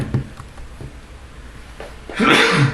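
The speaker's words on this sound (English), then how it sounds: "Sorry, I just sneezed." A single sharp sneeze bursts out near the end, loud and close, after a stretch of quiet background noise.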